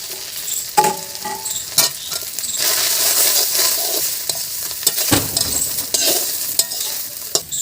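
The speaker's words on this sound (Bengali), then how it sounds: "মা পাট শাকগুলো ভালো ভাজা করে, মানে পুরো মচমচে হবে" Bitter jute leaves (pat shak) with chilli and turmeric frying in a pan, soft sizzling under repeated scraping and clinking stirs of a spatula, close and fairly quiet, with no talking.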